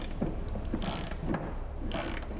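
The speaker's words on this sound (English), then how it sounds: "You see how I'm using my extender ratchet here?" A ratchet on an extension bar clicks in quick repeated bursts while loosening fasteners on the nose of a 1958 Ford Fairlane, close and loud with no talking.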